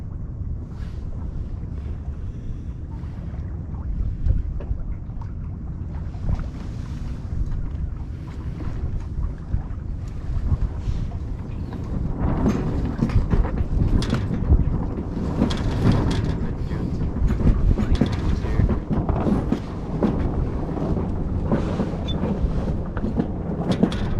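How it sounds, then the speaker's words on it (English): Sailboat moving under wind power alone with no motor running, a steady broad rush of wind buffeting the microphone and water washing past the hull, loud and continuous throughout with occasional gusty swells. "So we're not under motor power now, we're just sailing now."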